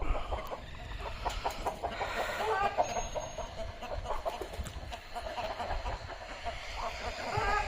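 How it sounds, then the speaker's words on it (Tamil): Chickens cluck and murmur in a busy outdoor setting on a goat farm, with a steady background hum and scattered faint bird calls throughout. "இந்த பாருங்க கோழிலாம் அந்த அப்படி போகுது"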